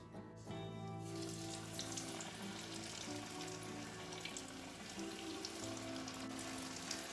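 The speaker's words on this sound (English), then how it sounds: "Now we just fry the fish." Battered walleye fish fries in hot oil, a steady, close crackling sizzle that carries on evenly throughout.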